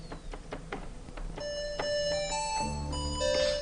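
Synth notes from an Akai Synth Station 25 keyboard driving a phone app sound in quick succession, first short plucked tones and then sustained layered notes and chords, clear and close with no talking.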